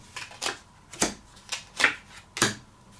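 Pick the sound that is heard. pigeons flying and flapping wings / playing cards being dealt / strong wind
playing cards being dealt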